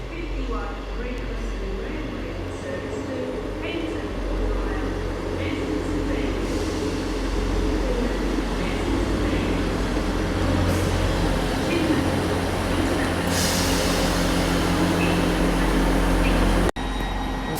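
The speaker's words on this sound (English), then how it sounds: "we got the St James's Park train coming in now" A Great Western Railway diesel unit, 158957, pulls into Exeter Central station on a service toward St James's Park, its engine rumble and wheel noise building into a steady, close roar before a sudden cutoff.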